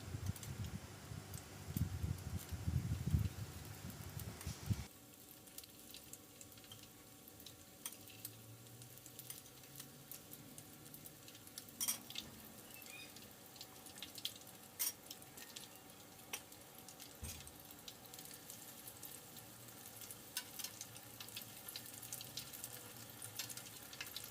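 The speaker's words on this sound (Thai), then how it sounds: "เมื่อร้อนได้ที่แล้วก็ใส่มะเขือยาวลงไปทอดได้เลยครับ" Slices of eggplant dipped in egg frying in hot oil, a soft, steady sizzle with faint crackles that runs on throughout, following a brief louder clatter at the start, with no talk.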